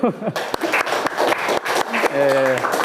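Students clap briefly in a physics classroom, a short burst of applause mixed with voices talking over it.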